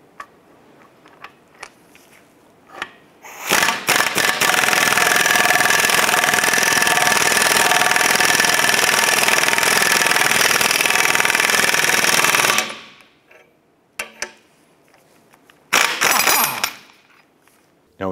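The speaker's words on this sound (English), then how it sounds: "I'm gonna go ahead and press our bushing into the control arm." A press forces a new bushing into the upper control arm of a 1994–2004 Chevrolet S10, making a loud, steady mechanical roar for about nine seconds, bracketed by a few short clanks and bursts before and after.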